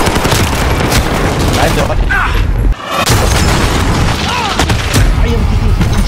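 Dense, loud gunfire and explosions in a Call of Duty: Modern Warfare match, rapid bursts and booms almost without pause, with a player talking over the battle.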